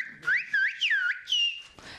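Children whistle an Occitan whistled language, producing a sequence of clear, close, rising and falling modulated tones in several short phrases with brief gaps between them.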